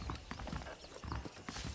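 Horse hooves from the video game Red Dead Redemption clip-clop in a quick, regular rhythm of near, soft thuds, alone and lasting under two seconds.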